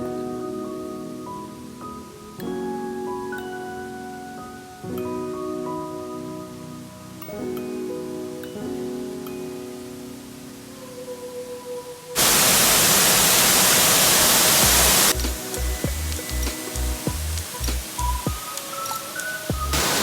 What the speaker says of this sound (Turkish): bugün Koçunlu Şelalesi'ndeyiz. Oldukça yüksek bir ses var burada.